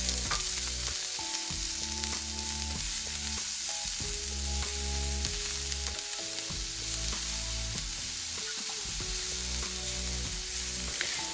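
Red peppers and other vegetables fry steadily in a pan for a Cuban beef stew, a continuous sizzle running throughout while a musical backing with clear sustained tones plays over it.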